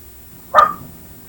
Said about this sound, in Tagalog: Ang ingay kasi ng aso tuloy